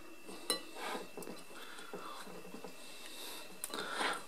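Dough is mixed in a bowl with cinnamon and a pinch of salt, giving soft, irregular scraping and clinking of a utensil against the bowl, quiet and close, with occasional sharper knocks.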